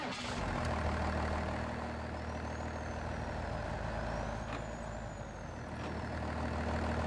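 A heavy truck engine rumbles at idle, a deep steady drone with faint high whines and hisses above it; no one speaks.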